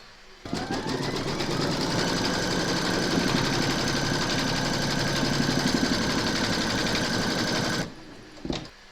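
An embroidery machine stitches the quilting round on the spine of an in-the-hoop notebook cover, a loud, steady rapid needle chatter that starts abruptly, runs without a break for about seven seconds, then stops, followed by a brief clatter.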